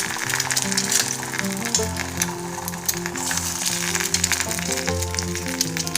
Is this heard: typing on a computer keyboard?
no